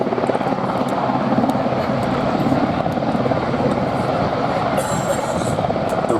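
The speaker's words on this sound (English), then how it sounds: "The rotor downwash from the helicopter." A helicopter hovers at an air festival during a sea rescue display, its rotor downwash a loud continuous roaring whoosh with a steady throbbing beat, close and dominant throughout.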